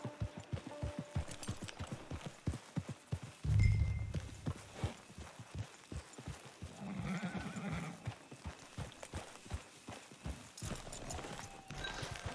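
Horse hooves in the video game Red Dead Online, a steady clip-clop of walking hoofbeats that runs throughout at moderate level, with other faint game sounds mixed in.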